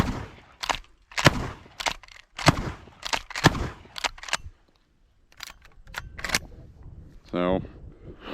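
A 1918 Winchester 1897 trench gun, a 12-gauge pump shotgun, fires a rapid series of loud, sharp blasts at close range, roughly nine shots with brief gaps, followed by a quick metallic rack.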